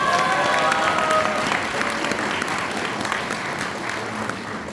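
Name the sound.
audience applause at a book launch event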